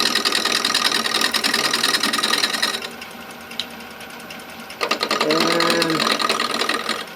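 A wood lathe turns a square spindle blank for a wooden spoon, making a steady whirring hum close by that drops quieter for a couple of seconds and then returns, with a brief spoken word.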